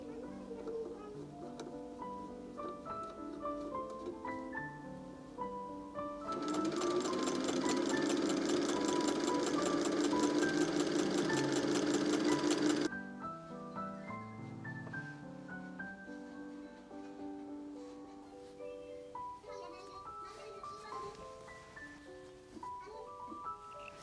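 A sewing machine stitches the side seam and hem of a skirt in one steady, fast burst of rapid needle strokes lasting several seconds, set against soft background music that continues before and after.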